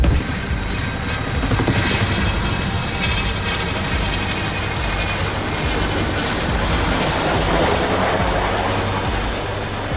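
Loud military helicopter rotor thumping continuously with a rushing engine whine, steady and close throughout, no voices.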